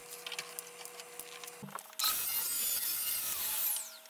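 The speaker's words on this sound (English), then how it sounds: "So what I need to do first is cut a kerf through this sled." A table saw cuts a kerf through a plywood sled: a low motor hum and light ticking give way to a loud, sustained whining cut that runs steadily for about two seconds before the blade winds down.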